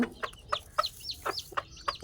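A hen clucks quietly and close by, about seven short, evenly spaced clucks in quick succession.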